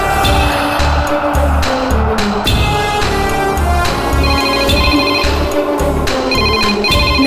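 A telephone ringtone sounds for a call from a hospital in a Tamil TV drama scene. The electronic melody repeats loudly and continuously throughout, blended with dense background music.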